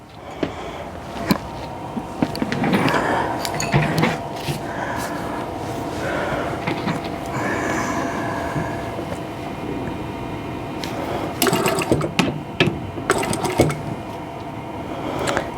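A sewing machine stitching quilt block pieces hums in a steady mechanical whir, with bursts of fast stitching and a few sharp clicks and handling noises.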